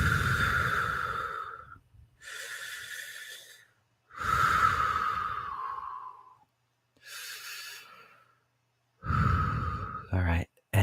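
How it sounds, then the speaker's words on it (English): Deep breathing during a guided meditation: several slow, close breaths, each a long airy inhale or exhale of a second or two separated by pauses, with a brief rustle near the end. "Let's take a few deep breaths and yeah, just center ourselves."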